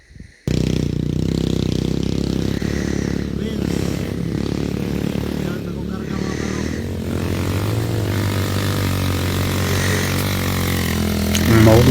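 A motorcycle engine droning steadily and loudly nearby, starting abruptly after a brief bump, with a low rumble and shifting tone that rises near the end; a voice talks faintly over it.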